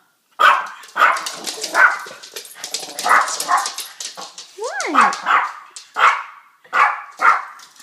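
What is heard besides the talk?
dogs barking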